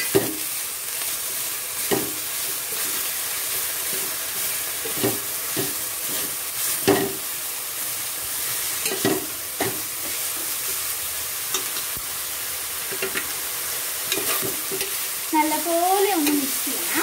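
Microgreens thoran with powder and salt is stirred in a pan: repeated scraping strokes of a spoon against the pan over a soft continuous sizzle, close and unhurried, with no talking.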